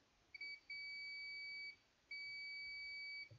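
Two steady high-pitched multimeter continuity-test beeps while probing an iPhone 6S motherboard, each held for about a second, with a short gap between them over faint background hiss.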